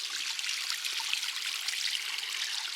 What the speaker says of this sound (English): here is the drainage from the bog garden into the pond